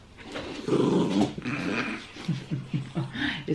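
A dog growls in a low, rumbling voice, first in one sustained stretch and then in several short pulsing bursts, close and fairly loud.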